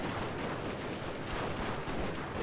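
Gatling guns fire without pause in a naval battle in Total War: Fall of the Samurai, a dense rolling crackle of gunfire and booms heard at moderate distance.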